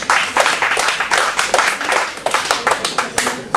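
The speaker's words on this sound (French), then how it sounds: "Sympa, on peut applaudir hein" A small audience at a crime-novel fair in Penmarch applauds up close in loose, uneven bursts of individual hand claps, with a faint murmur of voices underneath.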